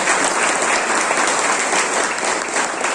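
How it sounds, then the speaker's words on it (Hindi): Steady, loud applause from a sizable crowd at a company event, continuous clapping filling the whole stretch with no voices standing out. "उनके लिए जोरदार ताली होना चाहिए।"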